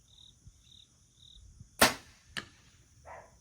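An arrow is loosed from a bow into a deer target, a single sharp close thwack followed by a lighter knock, set against faint insect chirps outdoors.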